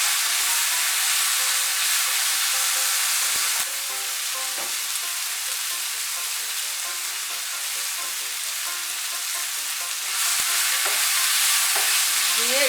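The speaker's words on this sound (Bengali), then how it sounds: "এর মধ্যে আমি কাঁচা লঙ্কা আর রসুনের কোয়াগুলো দিয়ে দেব।" Green chillies and garlic cloves fry with salt and turmeric in a pan, giving a loud continuous sizzle with occasional stirring knocks and no voices.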